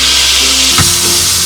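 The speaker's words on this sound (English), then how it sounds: "let that sizzle" French toast frying in butter in a pan, a loud continuous close sizzle and hiss throughout, with a brief scrape or shift of the pan partway through and no speech.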